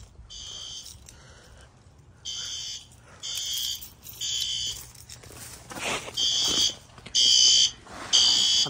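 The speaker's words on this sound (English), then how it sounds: "I've never actually gone around the building while the fire alarms are going off." Building fire alarm being tested, sounding in repeated loud bursts of high electronic tone roughly a second long with short gaps, each burst fairly close and clear over a quiet background.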